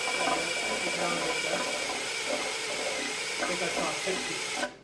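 A drill whirs steadily at close range on a 1964 Triumph TR4, with a constant high-pitched mechanical whine, cutting off abruptly at the end.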